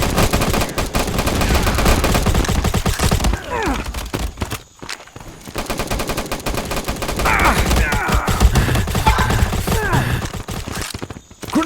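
Dense bursts of gunfire and rapid automatic shots from the Modern Ops shooter game on the Sawmill map, loud and continuous, with a grenade blast likely among the volleys near the middle.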